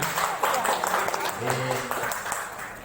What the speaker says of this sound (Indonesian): beri plus tepuk tangan untuk Pak Ali